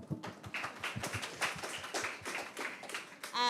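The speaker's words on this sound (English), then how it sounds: "Clap again." Several people at a school graduation ceremony clap together in an irregular patter of close, sharp hand claps that carry on for a few seconds.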